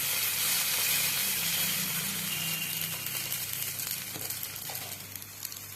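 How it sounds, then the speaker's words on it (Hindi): A ladle of batter spread across a hot pan for a quick breakfast sizzles and hisses loudly and continuously, gradually easing to a softer crackle, with no talking. "तो चलिए अब इसमें बैटर को डालते हैं।"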